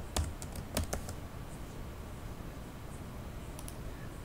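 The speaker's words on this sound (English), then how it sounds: "Now you can start typing the program" Keys on a computer keyboard clatter close by as a program is typed, with a few quick clustered taps near the start and a couple more near the end, separated by quiet room hum.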